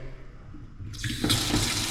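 Tap water starts gushing into a kitchen sink in a rental apartment, a sudden strong steady rush that swells louder partway through and runs on with good pressure, no talking.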